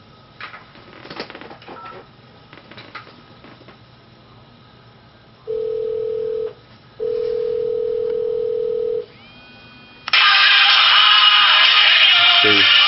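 A Cingular 3125 mobile phone receives an incoming call: two steady electronic tones, then a loud bright ringtone bursts in near the end, close and clear over faint background noise.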